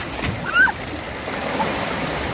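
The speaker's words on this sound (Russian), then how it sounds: "Это океан, это Атлантика" Atlantic ocean surf washes ashore at Cape Verde, a steady rushing hiss of waves close by, with a brief shout and faint voices over the water.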